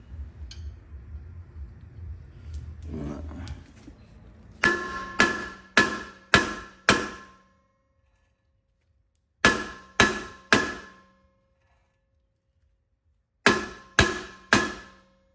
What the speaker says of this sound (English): so I will rely on the hammer.